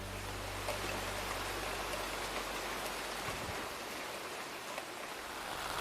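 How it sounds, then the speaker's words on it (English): Heavy rain drums steadily on a tent at a campsite in Waterton Lakes National Park, a dense continuous hiss close around the shelter with a low rumble fading early on. "As you can hear, it's raining really hard right now."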